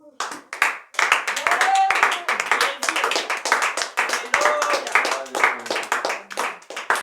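A church congregation claps loudly and steadily to acclaim the Lord, a dense run of hand claps with voices mixed in that lasts throughout.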